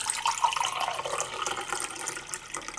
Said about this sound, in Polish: tutaj ładnie wlejemy wodę i zobaczymy co się stanie